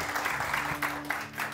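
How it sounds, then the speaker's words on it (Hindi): Applause from a studio audience on a Pakistani morning show broadcast, a steady wash of clapping lasting under two seconds at moderate level, with faint background hum. "बहुत सारी तालियां।"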